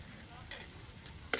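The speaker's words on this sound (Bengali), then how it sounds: "পেঁয়াজ রসুন ভাজার মধ্যে আমি অল্প পরিমাণে লবণ দিয়ে দেবো" Onion and garlic fry quietly in a pan, with a low steady sizzle and a soft stirring scrape near the end.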